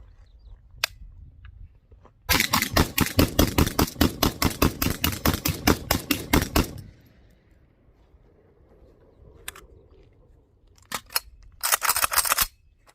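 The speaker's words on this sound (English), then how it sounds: "So we'll just dump the rest of this magazine just to see" A PSA AKP pistol with a stock trigger fires out the rest of its magazine in a fast, loud string of evenly spaced shots for about four seconds. Isolated sharp clicks and a short burst of rapid clatter follow in a quieter outdoor setting.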